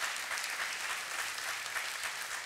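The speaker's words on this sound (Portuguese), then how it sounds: "Aplauda só mais um pouquinho para tomar água." Steady applause from a church congregation during a sermon, a dense, even wash of clapping that holds at a constant level throughout with no voices on top.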